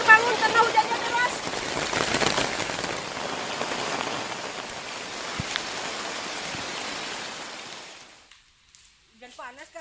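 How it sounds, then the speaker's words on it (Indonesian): Heavy rain pours onto a clear plastic camping shelter, a loud dense patter drumming for several seconds before it fades out and voices briefly speak. "teman-teman kita terbangun karena hujannya deras"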